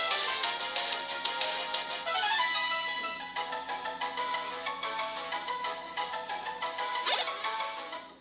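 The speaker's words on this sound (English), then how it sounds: "Cell phone!" A cell phone ringtone plays as a loud, close melodic electronic tune that runs continuously for about eight seconds, alone and with no speech.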